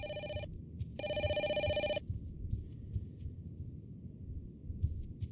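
A telephone rings in a dark, eerie game setting in the Backrooms: Missing Persons: two loud electronic rings, the second longer, then a hushed, faintly throbbing ambience.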